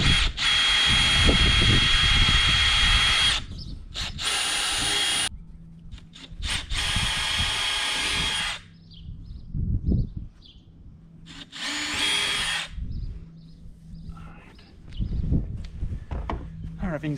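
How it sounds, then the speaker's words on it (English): Power drill boring holes into the plastic hull of an Old Town Top Water 120 PDL kayak to fit an anchor trolley: several close, loud whining bursts with pauses, a person talking in between. "Our holes are drilled."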